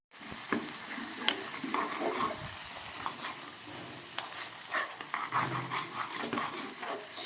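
Homemade pizza sauce, seasoned with salt and sugar, is stirred in a pan over the heat. A spoon scrapes and knocks repeatedly against the metal through a soft, continuous sizzle, with no talking.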